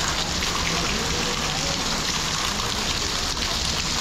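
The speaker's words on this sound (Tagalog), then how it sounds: "Tapos yan, ang ulan pa." Steady, dense rain falling outside a house where ground-floor plastering is underway, heard as a loud, continuous hiss that holds evenly throughout, with no clear talking.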